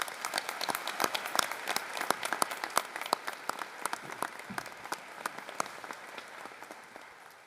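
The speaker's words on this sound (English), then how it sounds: "Give them all a round of applause" An audience at a College of Veterinary Medicine commencement ceremony applauds the graduates, with crisp, rapid clapping from a crowd in a large hall that stays steady and then slowly fades toward the end.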